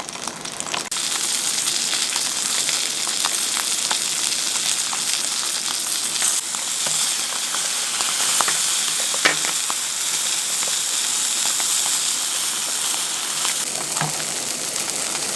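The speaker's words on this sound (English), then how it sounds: "Now it's going to start sizzling like mad." Blackfish fillets fry in a very hot pan, giving a loud, steady sizzle and crackle that carries on without a break, with occasional sharper pops and spits rising above it.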